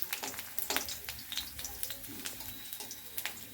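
Garlic frying in a pan on a home kitchen stove, a soft steady sizzle with scattered crackles and pops, fairly quiet and continuous throughout.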